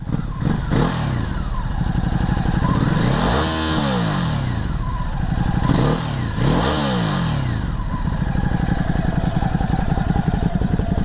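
A 2020 Ducati Hypermotard 950 SP motorcycle engine idles roughly, then revs hard twice in loud bursts before settling back to a steady rumble.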